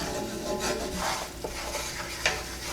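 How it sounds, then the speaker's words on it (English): A flat wooden spoon scrapes and stirs across the bottom of a cast iron skillet while mole rojo cooks, giving a steady close rasping rub with a faint sizzle beneath and one sharper scrape near the end. "use a flat wood spoon, just so that you can really scrape the bottom and make sure that you're getting all the little bits"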